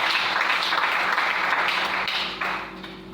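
A church congregation applauds the Lord in a sustained, loud burst of clapping that fills the space, then eases off slightly toward the end.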